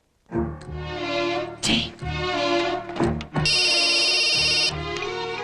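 A telephone rings at home with a loud, repeating electronic ringtone. The tone carries on steadily with a few brief breaks and no talking over it.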